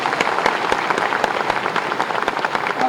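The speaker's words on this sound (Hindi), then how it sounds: "जोरदार तालियां बजाएं" An audience at an SC-ST business conclave applauds loudly for an honoured guest, a dense, even patter of many hands with a few sharper individual claps.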